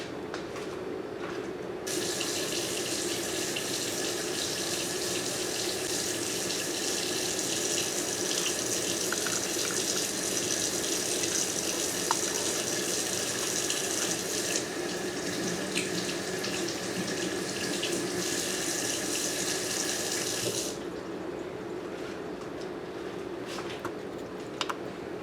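A kitchen water tap runs steadily while lobster tails are rinsed under it, a close, continuous splashing hiss that shifts in tone as the stream hits the food and sink, then cuts off near the end.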